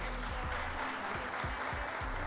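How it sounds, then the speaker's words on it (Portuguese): Audience clapping for Décio Lopes as he comes on stage at an irrigated winter farming awards ceremony, faint distant applause beneath rhythmic low booming music. "Palmas para o Décio, gente, novamente"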